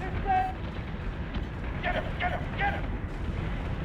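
Missiles strike a frigate in the space battle game Battlestar Galactica Deadlock, giving a deep, rumbling run of muffled explosions with scattered impacts, while a voice is faintly present.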